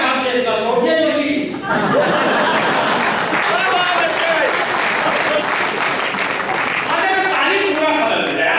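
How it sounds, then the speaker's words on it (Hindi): Audience applause at a Hindi comedy poetry gathering, a steady dense clapping crowd across the whole stretch with a brief dip near the start and some chuckling mixed in. "एक बार पूरा सदन मिलकर ताली कर रहा है"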